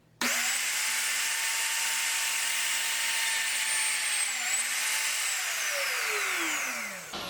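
A plunge router bores dowel holes in wood: the motor starts abruptly into a loud, steady high whine, dips briefly in pitch as the bit plunges down and lifts, then winds down toward the end.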